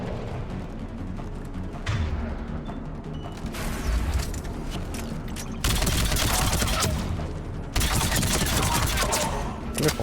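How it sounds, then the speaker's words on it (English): Bursts of rapid gunfire and explosions in the video game Mass Effect 3, loud and dense, coming in several sustained volleys over a steady game soundtrack. "He's taking fire!"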